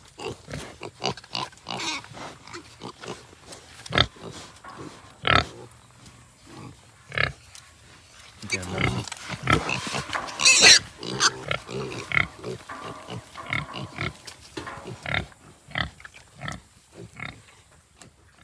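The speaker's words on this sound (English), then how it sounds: "Baby pigs." Piglets grunting and oinking in many short, uneven bursts, some close and loud, with scuffling and rustling between the calls.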